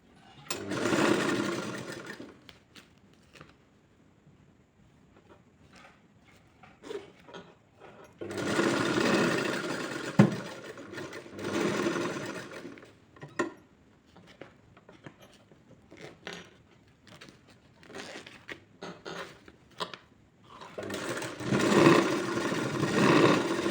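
Sewing machine stitching fabric pieces together for a handmade purse, running in three main loud bursts of steady whirring, at the start, middle and end, with short stitching spurts between and no talk.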